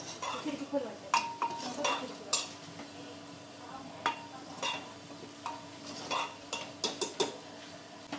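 Spiced masala being sautéed in a pan for a wet pea and potato curry, with irregular scraping stirs and spoon clinks against the metal over a faint low sizzle, close and moderately loud, with no talking.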